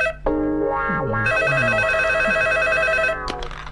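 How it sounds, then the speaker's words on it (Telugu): A telephone rings in a Telugu film scene: a loud electronic tonal ring with stacked harmonics holds steady for about two seconds, preceded by brief voiced sounds and followed by a short noisy burst at the end. "మళ్ళీ ఫోన్."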